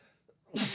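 A single short, sharp sneeze bursts out at the end after a quiet breath, close and fairly loud during a live radio sports talk show.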